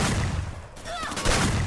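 Gunfire in the Free Fire mobile battle royale game, a loud burst of shots over busy in-game background noise, with a brief gap before the firing resumes.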